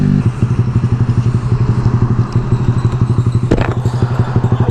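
A Yamaha R15 V3 motorcycle fitted with a Daytona exhaust runs at speed, its engine a loud, steady pulsing drone close to the listener, with a brief thump midway.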